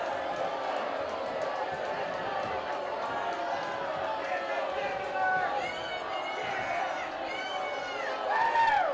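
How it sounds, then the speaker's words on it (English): A high school football crowd at an Arlington game cheers and whoops in support of their coach, a lively roar with scattered shouts and whistles, heard under a commentator's talk. "Crowd is getting into it over here too"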